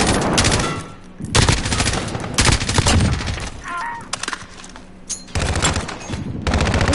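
Rapid automatic gunfire from a fast-shooting gun in Call of Duty, loud dense bursts rattling off in quick succession with brief pauses between strings of shots.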